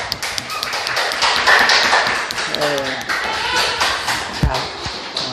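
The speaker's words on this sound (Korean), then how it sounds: "날마다 우리에게 생명을 먹여주시는 우리 예수님께 감사의 박수 올려드립시다" Congregation applause during a Sunday church worship service, a dense crackle of many hands clapping close by, steady for several seconds, with voices and a thump mixed in.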